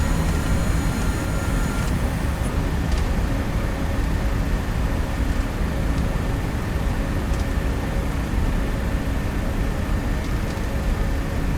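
Robin DR401 light aircraft taxiing in X-Plane 11, a steady droning engine hum at low throttle, continuous and unchanging with faint tonal whine, no voices.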